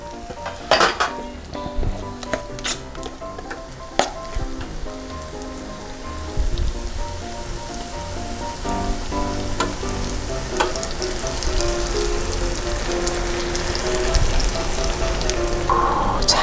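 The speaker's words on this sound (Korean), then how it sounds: "자, 이렇게 그 핫케이크 가루 반죽을 부어주시면 요 팬 하나가 그냥 꽉 찰 정도 되거든요." Pancake batter made from hotcake mix sizzles in a buttered frying pan as it is poured, a steady crackling fry that builds and thickens over time, close up, with scattered clinks and no talking.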